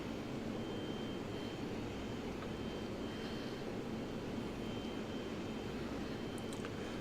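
Aircraft engine in a VR flight game, flying through clouds: a dense, steady broadband roar with a faint thin whine above it, continuous and even in level for the whole stretch, with no talk.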